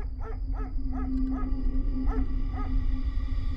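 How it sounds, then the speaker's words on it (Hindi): Several dogs bark intermittently in the distance, faint repeated yips over a steady low hum and background noise. "दूर कहीं कुत्तों की भौंकने की आवाज"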